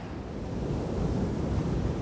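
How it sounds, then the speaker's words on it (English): Soft waves wash in on the Oregon coast at low tide, a continuous gentle roar of surf mixed with wind noise, swelling slightly. "Sometimes the tide is low and the waves are soft, and it's just nice and quiet and peaceful."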